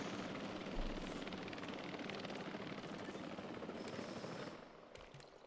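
A helicopter airlifting a dinosaur in the Jurassic World Evolution 3 park-building game, a dense continuous rotor chop and engine roar at moderate level that fades slightly toward the end.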